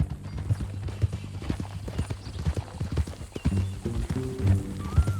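Horse hooves clopping in Red Dead Redemption 2, a steady, close ride with rhythmic thuds, some snorting and a short neigh toward the end, plus faint game ambience.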